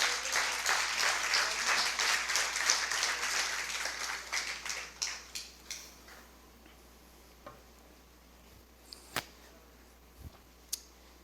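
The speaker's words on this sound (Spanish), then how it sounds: "¿Cuánto da un fuerte aplauso al Señor?" A church congregation applauding during a Spanish-language sermon, with dense clapping at first that thins into scattered, slower claps and fades to a few isolated hand claps near the end.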